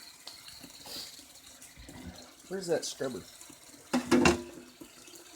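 Cold tap water runs into a sink while dishes are washed, a soft splashing flow under a man's speech, with clattering bursts of dish handling and louder splashes near the end.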